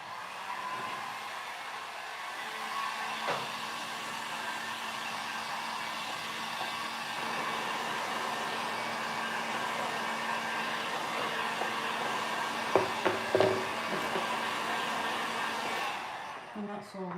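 A hair dryer blows steadily on a decoupage craft piece, a constant loud whooshing hum that runs for most of the clip, with a few small handling knocks near the end.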